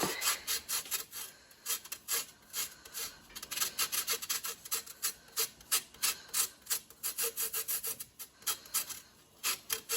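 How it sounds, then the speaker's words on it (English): A lemon rubbed against the zesting side of a hand grater for scone batter, giving steady rhythmic rasping scrapes, close and clear with no talking. "Right now we are going to zest the lemon."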